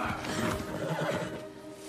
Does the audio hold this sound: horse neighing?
yes